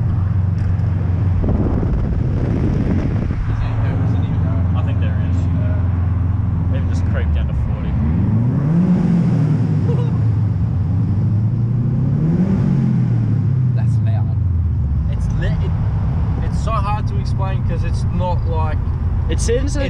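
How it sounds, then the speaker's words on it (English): A car engine with a new exhaust drones and rises and falls in pitch as it revs through a tunnel, with wind buffeting and people talking over it. "Gotta go for a tunnel run with the new exhaust."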